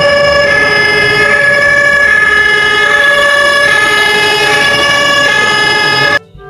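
A toy fire engine sounds a loud, steady electronic siren with bright, sustained tones for about six seconds, then cuts off abruptly.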